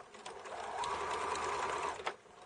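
A sewing machine runs a short steady burst of stitching through fleece for a one-piece mitten, a close, quiet whirring hum lasting about a second and a half with a soft clunk at the end.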